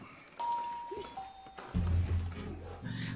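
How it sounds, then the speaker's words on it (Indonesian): A doorbell chimes at a family home, a bright tone followed by a second lower tone, then a heavier low rumble of movement and background sound. "Tidak lama, terdengar sebuah bel."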